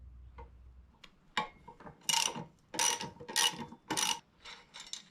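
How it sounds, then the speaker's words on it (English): A ratcheting 14mm wrench and 19mm socket turn a nut to remove the front wheel of a MotoVox minibike. Sharp ratchet clicks come up close in several rapid bursts separated by short pauses. "I have my 19mm socket on this side, and I'm gonna go ahead and remove the front wheel"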